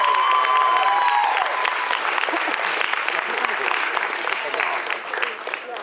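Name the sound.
audience applause and cheering for cosplay contestants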